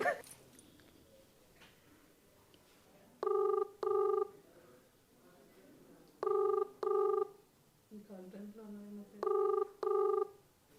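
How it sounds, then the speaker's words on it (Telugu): A phone ringback tone sounds in double bursts, three pairs with quiet gaps between them, plus a brief lower tone near the end. "చూద్దాం, నంబర్ రింగ్ అవుతుంది"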